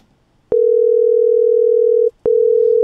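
A synthesized telephone ringback tone built from 440 and 480 Hz sines, a loud steady hum lasting about a second and a half, a short gap, then the tone resumes, with clicks at each start.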